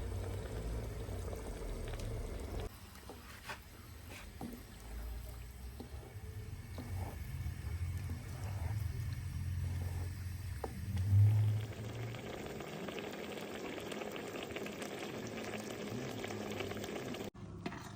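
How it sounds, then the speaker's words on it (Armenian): Eggplant caviar boils in a pot, a steady bubbling simmer that runs throughout with little variation and no voices. "Եռման պահից սկսած եփում ենք մոտ 1 ժամ 30 րոպե։"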